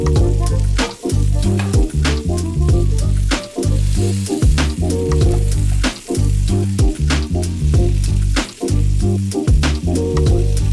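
Burgers fry in foaming butter in a pan, a loud, dense, continuous sizzle and spatter with a low rumbling bed and recurring sharp pops, close up throughout.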